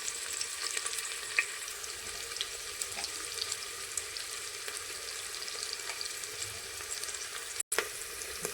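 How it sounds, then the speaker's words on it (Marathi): Onion frying in oil with a pinch of salt for khichdi, producing a constant low sizzle with light crackling and an occasional spoon tap, and a brief cut near the end, with no talking. "हे तेलामध्ये आपण चांगलं फ्राय करून घेतलं पाहिजे"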